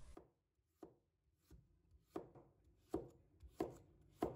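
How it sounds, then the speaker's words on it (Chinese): Half a carrot is chopped into short pieces and then slices on a cutting board, giving about eight distinct knife thuds at a slow, slightly uneven pace, close and fairly quiet, with no talking. "再准备半条的胡萝卜，把它切成小段， 再切成片。"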